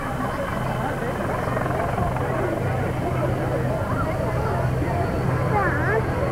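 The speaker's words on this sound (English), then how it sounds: "It's an extremely versatile helicopter and still under continuous development." A Lynx military helicopter displays at a 1992 air show in Humberside, its engine and rotor drone steady and moderately loud throughout, with crowd murmur and a commentator's voice mixed underneath.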